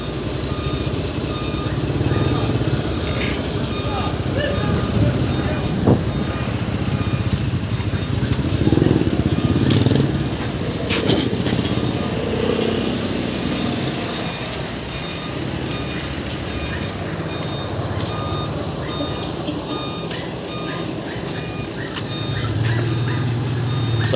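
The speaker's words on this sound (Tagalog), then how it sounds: "Pangalawang dump truck na po, yung kulay dilaw." A yellow dump truck works at a roadside asphalting site. Its engine drones steadily, with reversing beeps and general construction noise over about twenty-four seconds, and no voices are heard.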